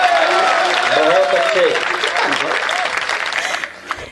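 An audience claps together in a dense, loud burst that fades toward the end, while someone speaks over it.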